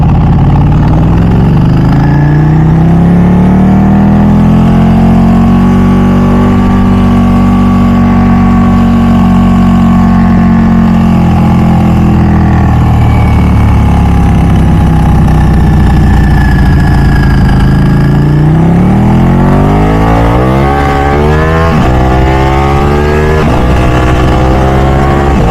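A Ducati 1199 Superleggera motorcycle engine revs hard and accelerates onto a freeway, a very loud, close howl that climbs in pitch, eases, then rises again through quick gear changes.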